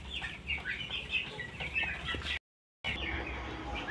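Chickens cluck and chirp continuously inside a lit, ventilated coop, a busy close-up flock chatter with a brief dropout partway through.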